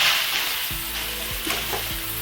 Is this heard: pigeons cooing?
no